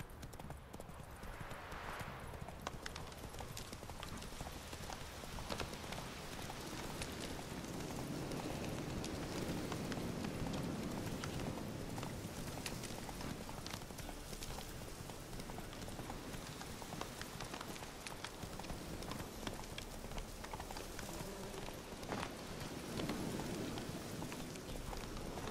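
Roach the horse gallops in The Witcher 3, a steady rhythmic thud of hooves under a wash of rain-like noise, moderately quiet and continuous without speech.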